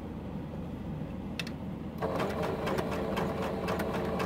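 A sewing machine stitches a fabric frame border onto a T-shirt quilt block, running with a low steady motor hum before the needle speeds into a rapid, even clatter close by.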